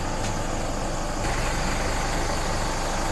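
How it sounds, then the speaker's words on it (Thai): Isuzu Mu-X 3.0 DDI diesel engine idling, a steady low rumble heard close and even throughout with no voices over it. "ตัวเครื่องยนต์นะคะ เดินได้เรียบเดินได้สมูทนะคะ"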